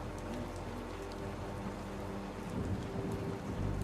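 Rain falling steadily as a dense, continuous hiss with low rumbling underneath, constant and enveloping with no voices.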